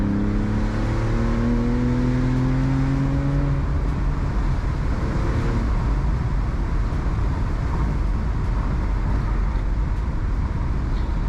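A 2014 Porsche Carrera S in Sport Plus mode revs up hard, its engine note climbing in pitch through a couple of rising sweeps before settling into a loud, steady roar, close and without talk.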